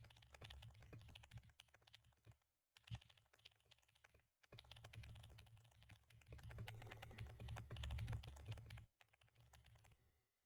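Fingers typing on a computer keyboard while solving a coding problem: steady, quiet clatter of keystrokes in uneven bursts, broken by two short pauses, with no talking.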